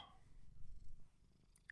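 A cat purrs softly and steadily at close range, a low continuous rumble with a brief sharper sound at the very end.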